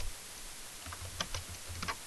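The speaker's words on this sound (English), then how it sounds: "I'm typing the wrong one." Faint, quiet clicks of typing on a computer keyboard come in a short, irregular burst of keystrokes against a steady background hiss.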